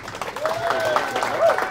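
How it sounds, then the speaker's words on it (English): Audience applause at an industry speaker talk, fairly faint and diffuse, with whistle-like tones and voices running over the clapping throughout. "One more round of applause for Isaiah Cartwright, please."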